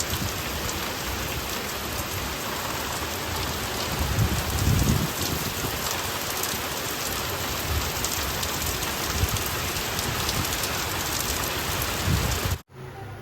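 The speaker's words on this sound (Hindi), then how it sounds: "बाहर देखिए कितना अंधेरा जैसा लग रहा है रूम में और बारिश हो रही है।" Steady rain falls outside a home at about 7:30 in the morning, a dense, even hiss of drops on surfaces that carries on without a break for the whole stretch and then cuts off abruptly near the end.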